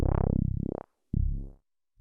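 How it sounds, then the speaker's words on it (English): Modular synth patch with an LFO sweeping the filter resonance: buzzy pulsing tones glide down and up in pitch, cut off abruptly, then return in a second shorter sweep, loud and alone with silence between. "this LFO is sending to the resonance of the filter, so that's going to give us a modulating sound"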